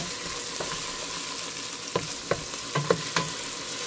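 Ginger and lemongrass frying in a pan for dinuguan, a steady sizzle with a few sharp pops and clicks of stirring scattered through, close and moderately loud.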